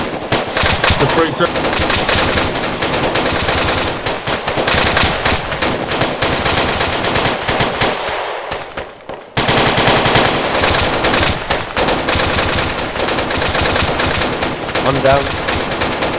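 Sustained automatic gunfire in an Arma 3 Zeus co-op military battle, loud and dense rapid bursts with one brief pause, voices speaking over the shooting.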